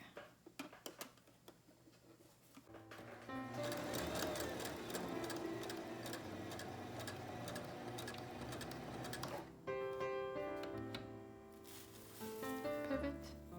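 Sewing machine stitching fabric masks, a steady close mechanical whirring and ticking that starts after a few quiet seconds and runs continuously, pausing briefly before resuming.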